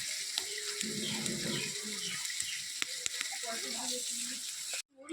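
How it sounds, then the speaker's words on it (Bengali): A broken prawn head fries in a pan over a clay stove, giving a soft, steady sizzle with occasional clicks and low clattering, then a sudden drop near the end. "একটা মুড়ো ভেঙে গেছে তো এটাই আগে ভেজে নিচ্ছি"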